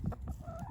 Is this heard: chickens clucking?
yes